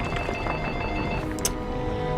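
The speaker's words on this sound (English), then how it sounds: "Excuse me, that's the phone." A telephone rings steadily and fairly loudly in a room, a continuous electronic ringing tone with no voices over it.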